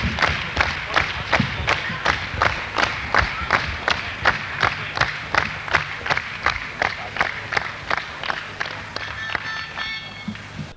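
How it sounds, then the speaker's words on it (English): Danish concert audience at a 1969 show in Brøndby clapping in unison, a loud, steady rhythmic beat of roughly two claps per second with crowd noise underneath, as heard on a live recording. "there's that weird Danish clapping that is in every Danish recording"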